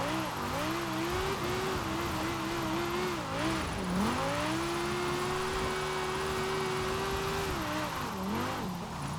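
A limo's engine revs and wails while drifting in Forza Horizon 4, a steady loud tone that rises and dips with throttle, holding a long high note midway, with faint tire hiss underneath and no talk.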